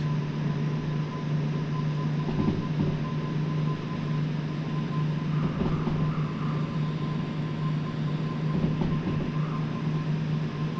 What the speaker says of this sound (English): The sound of the engine going up and up the revs.